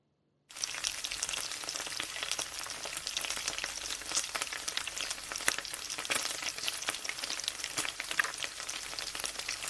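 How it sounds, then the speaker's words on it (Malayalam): Chopped coconut pieces fry in coconut oil in a pan while a beef liver roast is being prepared. A steady, close sizzle starts abruptly and crackles on evenly, with faint stirring and no voices. "അപ്പോൾ ആദ്യം തേങ്ങാക്കൊത്ത് ഒന്ന് ഫ്രൈ ചെയ്തെടുക്കുക"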